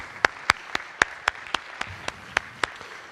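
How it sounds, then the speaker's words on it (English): An audience at a live casino industry event claps for the dealers, about a dozen distinct, evenly spaced claps from a small group, fairly sparse and moderately loud against a quiet room. "please join me to a round of applause to our dealers, shufflers, pit bosses,"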